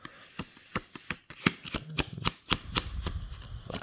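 Flexible, slightly thick oracle cards being shuffled by hand, a run of crisp riffling snaps and soft slides at an uneven rhythm, close and clear with no talking.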